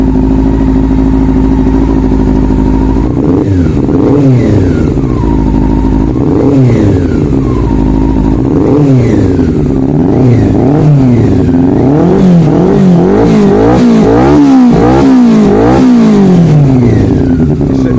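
A Honda CB400 Super Four motorcycle engine idles loudly up close, then is blipped again and again, its revs repeatedly rising and falling.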